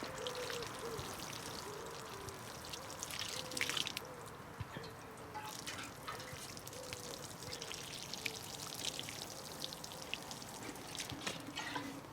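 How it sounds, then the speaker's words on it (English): Water is poured onto allotment soil before a seed drill is made, giving a faint, continuous trickling and splashing that runs steadily throughout without any voices. "I'm going to put some water on there"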